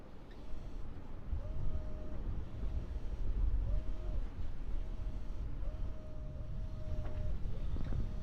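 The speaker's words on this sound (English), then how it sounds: "We've got a good wind now coming through the gap between Step Island and Big Cavalli Island" Steady wind from the gap between Step Island and Big Cavalli Island buffets a sailing catamaran, a continuous loud roar with low rumble and a faint recurring whistle-like tone.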